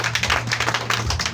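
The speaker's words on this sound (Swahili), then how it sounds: "Ya Yesu makofi mazuri." Applause during a church service: a dense, steady burst of many hands clapping together, fairly loud and filling the whole short moment without a break.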